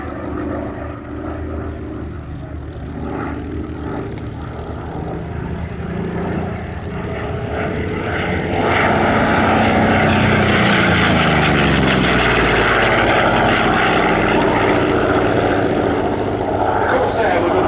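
A Goodyear-built licence version of the Vought Corsair propeller fighter flying at the 2022 Shuttleworth Fly Navy Airshow, its piston engine drone rising from a distant hum to a loud, close roar with shifting pitch as it passes, a commentator talking over it.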